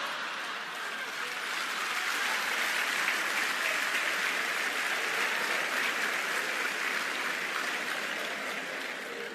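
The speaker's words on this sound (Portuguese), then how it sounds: "Estava difícil de você aplaudir," Lecture audience applauding, a broad, sustained wash of clapping that swells and holds steady for several seconds at moderate distance, no voices over it.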